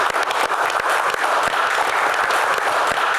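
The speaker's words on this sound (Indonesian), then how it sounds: "tepuk tangan" An audience at a live Q&A show claps for the guest stars, brisk and steady applause with sharp individual claps standing out, fairly loud and close.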